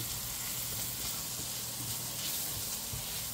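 Turmeric stirred into a pan with cumin seeds sizzling in oil, a quiet, continuous hiss of frying with faint scraping underneath.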